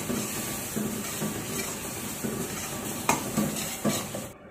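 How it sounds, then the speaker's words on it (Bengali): Chicken being stir-fried with whipped yogurt in a pan, a steady sizzle under repeated scraping and clinking of a utensil against the pot, fairly close and even in level, with no talking. "এটা দিয়ে সাথে সাথে ভালো করে ভুনে নিতে হবে যাতে দইটা ফেটে না যায়"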